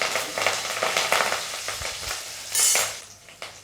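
Curry leaves crackle and spit in hot oil, a dense, steady sizzle with sharper pops bursting through now and then, close up with no voices.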